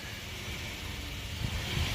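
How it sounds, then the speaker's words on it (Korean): A 2015 Hyundai Grandeur HG 3.0 idles roughly while nearly out of fuel, giving a low, steady, slightly uneven rumble under a faint hiss, with no talking. "그 기름이 없어서 차가 덜덜거리는데"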